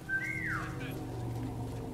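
A character whistles in the War Mongrels video game to lure a guard, a single rising-then-falling whistle heard over steady game ambience.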